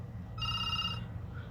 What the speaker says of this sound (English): Oh, my phone suddenly rings.